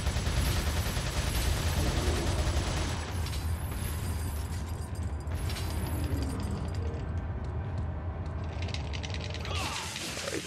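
Repeated gunfire in Resident Evil 4, a dense, sustained barrage of shots and blasts with mechanical clatter that keeps going for several seconds before thinning out near the end, no talk over it.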